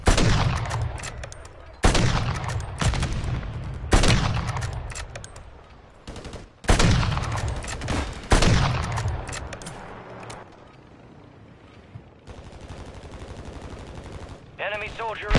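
Rapid bursts of automatic gunfire from a Warzone match arrive in repeated volleys with short gaps between them. The firing is loud and close at first and grows quieter and more distant later.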